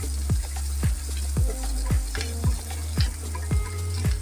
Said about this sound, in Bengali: রসুনটা একটু লাল লাল করে ভেজে আপনারা কাঁচা লঙ্কা চেরাগুলো দিয়ে দেবেন।